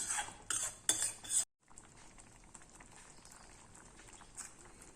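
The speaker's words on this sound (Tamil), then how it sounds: "கொஞ்சம் நல்லா கொதிச்சு கட்டி ஆகட்டும்." A pot of lentil and bottle gourd kootu simmers on the stove: a few sharp utensil clinks and stirring knocks at first, then soft, steady bubbling carries on quietly.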